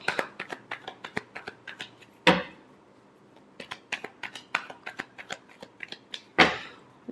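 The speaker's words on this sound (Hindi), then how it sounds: "Last shuffle." Tarot cards being shuffled by hand: a steady run of quick, close riffling snaps and flicks, with two louder bridging bursts midway and near the end, and no talking.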